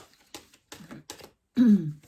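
Several short bursts of papery clattering as oracle cards are shuffled by hand, close by, ending in a brief low vocal grunt.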